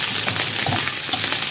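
Food cooking again in a hot pan for a recipe, giving a loud, continuous sizzle and frying hiss with faint stirring scrapes.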